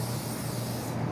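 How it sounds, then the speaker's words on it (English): A close, steady hiss of CA glue activator sprayed onto a wooden workpiece during a bench hook build, running continuously from start to end with no talk. "spray our workpiece with activator,"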